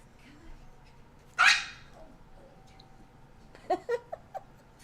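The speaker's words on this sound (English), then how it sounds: "the dog is walking too close to my camera stand" A dog walking close to a camera stand lets out one loud bark, then a few short yips and whimpers near the end, over a quiet indoor background.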